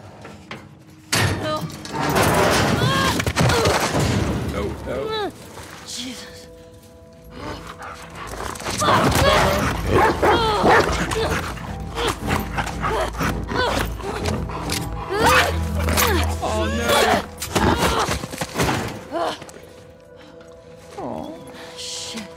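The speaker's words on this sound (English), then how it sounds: "Stupid dog." In the video game The Last of Us Part II, a dog barks in loud, repeated bursts, mixed with busy gameplay noise and scuffling.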